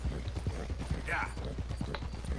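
Horse hooves galloping in a video game, quick rhythmic clip-clop beats, fairly faint and close, with a person talking over them.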